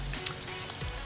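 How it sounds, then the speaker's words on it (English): Salmon croquettes frying in a pan give a steady, close hiss of sizzling oil with faint crackles and one brief sharper pop, with no voices. "they're sizzling in the pan, they're smelling up the house"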